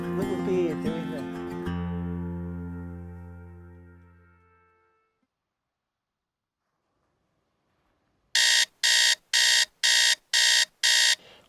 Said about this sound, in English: We're up early, if you've probably seen from the alarm